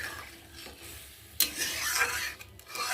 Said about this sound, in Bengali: এটা পরিমাণ মতো জল দিয়ে দেবো। দিয়ে ভালো করে নেড়ে দেবো।